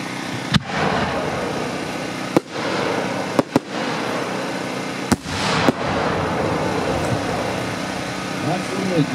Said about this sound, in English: Shoot a couple of smaller shells here